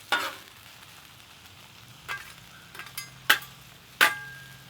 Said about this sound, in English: So we're going to go ahead and start heating up this Cheese Whiz again.